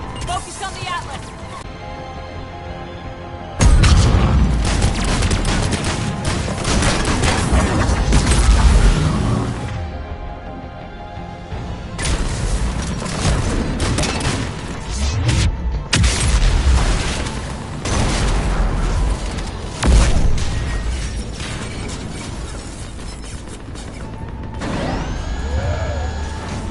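Heavy mechanical booms and clanking bursts from Mass Effect 3, with loud cannon-like blasts rolling over grinding machinery and a voice speaking.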